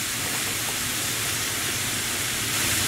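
Beef mince sizzles and fries in a pan with softened onion and capsicum, a loud, steady hiss that continues without a break.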